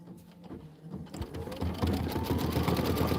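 A sewing machine stitches embroidery for a quilted pillow, starting with sparse ticks and building to a fast, steady mechanical chatter, close by.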